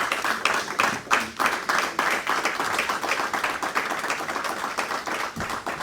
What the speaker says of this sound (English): With a standing ovation and a clap offering, shall we all welcome Professor Kwaku Azar